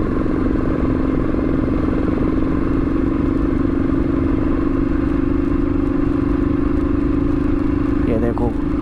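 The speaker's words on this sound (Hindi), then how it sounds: "रॉयल एनफील्ड का असली मजा है धक धक धक धक धक धक इंजन के साथ जाओ" A Royal Enfield Bullet motorcycle engine thumps steadily while climbing a hilly road on a group ride, a loud, close, continuous drone with wind noise throughout.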